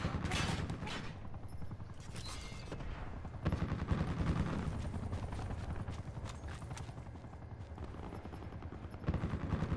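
Rapid bursts of gunfire in the Black Ops 4 video game, dense rattling volleys running continuously over a busy game soundscape, fairly faint overall with a few sharper louder shots.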